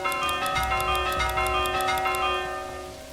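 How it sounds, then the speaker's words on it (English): A church bell rings in the medieval city-building game Manor Lords, sustained tonal chimes with repeated strikes that slowly fade toward the end. "I got an achievement for ringing a church bell"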